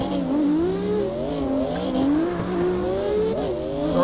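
A Toyota Rina in the video game CarX Drift, fitted with a V8 engine swap, drifts with a continuous wavering engine note and tire squeal, revs rising and falling as it links corners, loud and without talk.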